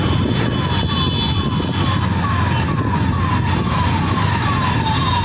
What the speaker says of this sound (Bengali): দেখো পিছনে অ্যাম্বুলেন্স, ওটা আটকে গিয়েছিল, অ্যাম্বুলেন্সটা ছেড়ে দাও না।